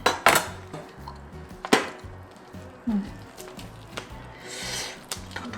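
A knife cuts through braised pig's feet (jokbal) at the joint on a wooden board, giving several sharp knocks and cracks at irregular intervals over soft squishy slicing and faint background hum.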